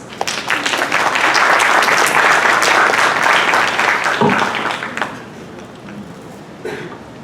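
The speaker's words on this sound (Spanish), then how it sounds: "Recibimos con fuertes aplausos." Strong, dense applause from an audience at a university criminal law lecture, loud and sustained for about five seconds before tapering off to a few scattered claps.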